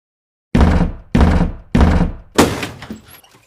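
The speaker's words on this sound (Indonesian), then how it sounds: "Kok main dobrak pintu orang sih?" A door being forced open in an Indonesian drama scene: four heavy, loud thuds in quick succession, the last one a crashing burst that trails off.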